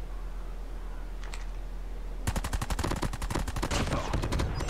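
Call of Duty multiplayer gunfire from the SMT LAPA weapon: quiet game ambience for two seconds, then a loud, rapid burst of automatic shots filling the rest of the moment, close and dense.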